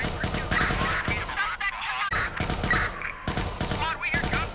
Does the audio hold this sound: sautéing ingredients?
no